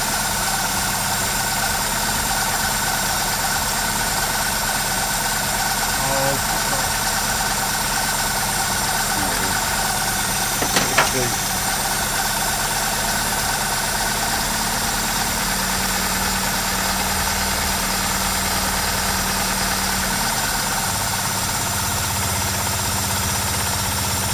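A steady Opel Manta engine idles close by after distributor adjustment, a constant low mechanical hum with a few brief clicks near the middle and no talking.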